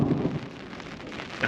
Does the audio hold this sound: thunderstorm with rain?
yes